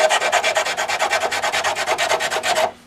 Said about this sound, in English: I can just take the sanding block.